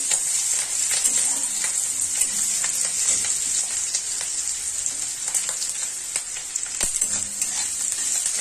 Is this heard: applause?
no